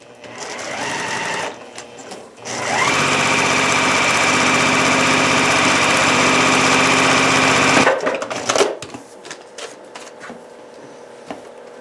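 A sewing machine runs in one long steady burst, stitching 7.5-inch black border strips onto a paper-pieced pineapple mug rug, with shorter starts and stops before and after.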